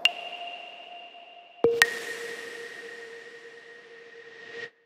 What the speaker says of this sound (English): Now, you could also hear probably a sort of whoosh in the reverb at the end,